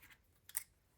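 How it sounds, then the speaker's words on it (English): A couple of quick, crisp snips of scissors trimming paper close by, the second louder, in an otherwise quiet room. "I'm just going to take that and trim it like that"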